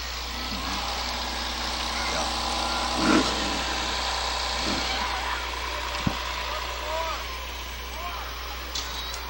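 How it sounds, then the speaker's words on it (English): A 1967 Chevy Chevelle idles at a small-town anniversary parade, a steady low engine rumble running throughout beneath outdoor crowd noise and scattered voices. "And then we have a 1967 Chevy Chevelle."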